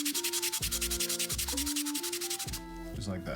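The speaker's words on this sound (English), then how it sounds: "you can just use this melamine foam here and then take and just scrub it down" Melamine foam is scrubbed back and forth on a Nintendo 64 cartridge in quick, rhythmic rubbing strokes. The scrubbing is close and steady, with a tonal musical background underneath.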